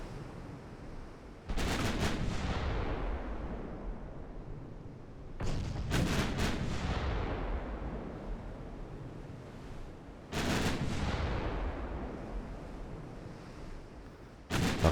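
Heavy warship guns firing armor-piercing shells in Ultimate Admiral Dreadnoughts, the Ottoman navy's 1948 campaign: three loud booming salvos, each a sharp blast trailing into a long rumbling decay, spaced several seconds apart over steady ocean ambience.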